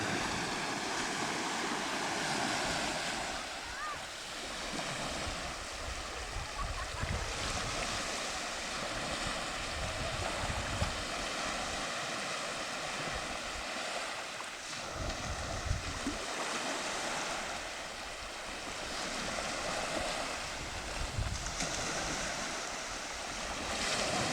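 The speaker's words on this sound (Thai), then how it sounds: "คลื่นทะเลค่อนข้างเงียบสงบนะครับ" Calm sea waves wash steadily onto a sandy beach at Adang island on an early morning, a continuous soft surf with gentle swells and light wind noise, no voices.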